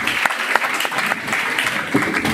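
Steady audience applause at a lecture on Magellan and Elcano's first circumnavigation, continuous clapping with a few sharper individual claps standing out.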